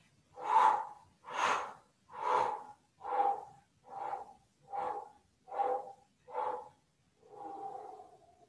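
Eight slow, rhythmic, breathy exhalations during a seated qi gong breathing exercise, each a soft forceful push of air close to the listener, followed by a longer, gentler final release.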